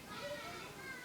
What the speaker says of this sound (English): Maybe you can hear the children returning from elementary school outside.